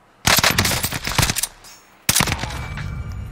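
Loud automatic gunfire in the video game Call of Duty Warzone: a rapid burst of close shots, a brief pause, then a second burst that trails off.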